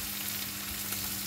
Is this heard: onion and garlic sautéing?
yes